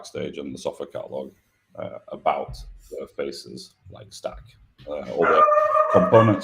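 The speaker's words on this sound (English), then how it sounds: "Sorry, that's my dog in the background." A dog barks and yips in the background, rising to a loud, sustained burst near the end, while someone talks over it for most of the clip.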